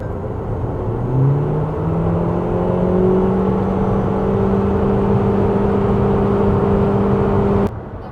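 A BYD Dolphin G DM-i hybrid in HEV Sport mode accelerates hard to overtake, its engine drone and electric whine climbing steadily in pitch, then holding before cutting off abruptly.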